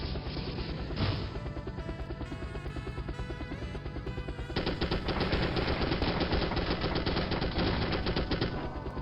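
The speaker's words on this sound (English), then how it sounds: "AA guns, I guess. Probably twin, 40mm or something along these lines" Twin 40mm anti-aircraft guns in the 1998 video game M.I.A. Missing in Action pound out a dense, unbroken rapid-fire stream, growing louder partway through and continuing alone without talk.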